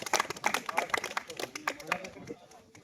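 Audience clapping at an honour ceremony for UP Police recruits, a dense patter of hand claps running steadily for a few seconds, moderately loud and close, with voices mixed in underneath.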